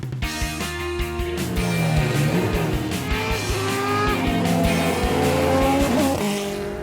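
Vintage race cars on track at a Targa 66 event, including a 1974 Bobsy SR6, a 1966 Ford GT40 and a 1967 Alfa Romeo: loud, overlapping engine roars with rising and falling revs as several cars pass close by.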